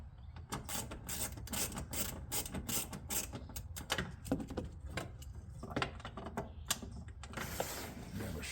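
A quarter-inch hand ratchet clicks rapidly while working 10mm bolts on a Jeep JK during a pedal position sensor replacement, a close, dense run of small clicks going on throughout.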